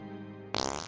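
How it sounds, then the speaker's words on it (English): A fart bursts out loudly after a low humming background, a short sputtering blast lasting about half a second with a brief final puff. "He had to fart real bad,"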